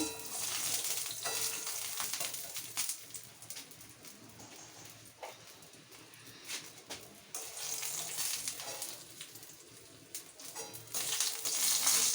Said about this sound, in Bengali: আনাজগুলো দিয়ে একটু কষিয়ে নেব।